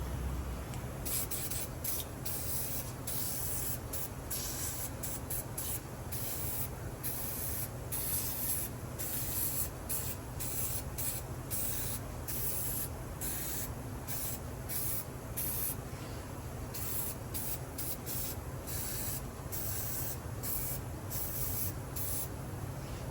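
Penetrating oil is sprayed onto the flange of an old-style Bluebird rotor in a long run of quick, close hissing bursts with a steady rhythm and no talk.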